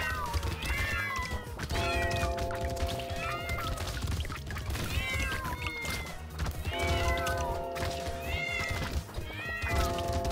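Cats meow and caterwaul repeatedly in the video game Brotato, loud looping cries over constant game music and effects.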